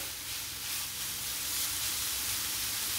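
Carrots frying in ghee over medium-to-low heat in a pan, a steady close hiss and sizzle that holds evenly throughout without pause.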